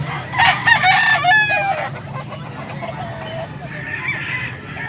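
At a chicken market in Angeles, Pampanga, several chickens cluck and a rooster crows loudly nearby near the start, followed by softer clucking and squawks against a background murmur.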